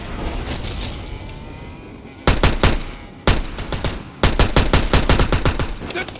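Gunfire in GTA San Andreas as a gate is shot out: loud, rapid automatic bursts in three volleys after a couple of seconds of low rumbling ambience, close and dominant.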